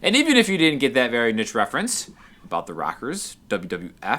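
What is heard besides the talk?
No everyday noises stand out.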